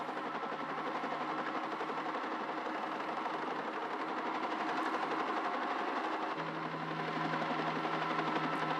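A helicopter flies near cliffs during a supply drop, giving a steady, dense engine and rotor drone that holds at a constant level throughout, with a low hum that shifts slightly in pitch partway through.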